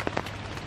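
Heavy rain drums on a tent at a solo fishing camp in Indonesia, a brief, close, dense and steady patter.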